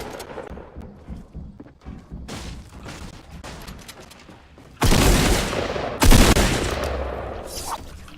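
Gunfire in a battle royale video game with zombies, heard close and loud: scattered shots and bursts build up, then two heavy, sustained volleys of rapid fire take over the second half.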